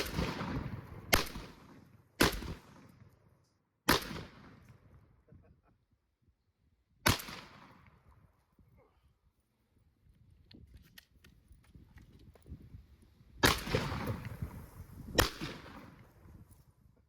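Sharp cracks from a Taurus TX22 .22 pistol with a forced reset trigger ring out outdoors. Single shots are spaced a second or more apart, then a quick pair follows near the end, each loud and close, with faint talk between them.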